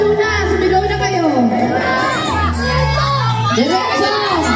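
Crowd of people at an outdoor Christmas games event in Margarita shouting and cheering loudly and continuously, with children's voices and whoops rising over a dense, busy din.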